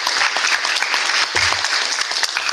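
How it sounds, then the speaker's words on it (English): An audience at a 2021 school spelling bee breaks into broad, steady applause that fills the room for a few seconds, loud and continuous. "I think they all deserve a round of applause."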